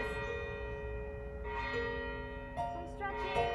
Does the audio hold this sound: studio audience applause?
no